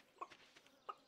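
Chickens clucking in the farming video game Stardew Valley, two short clucks about half a second apart, quiet and alone.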